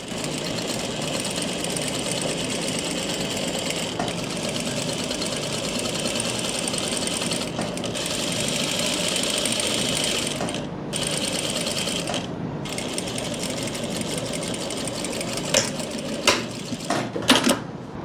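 A sewing machine runs steadily, stitching a hem on palazzo pants just above the elastic, with a continuous mechanical whir broken by brief pauses near the end.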